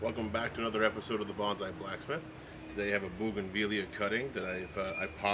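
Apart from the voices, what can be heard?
None of the usual background noises is heard.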